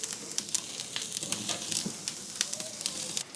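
Garlic-butter-dipped tomato searing over an open BBQ flame, giving a steady close sizzle with frequent small crackles and spits throughout.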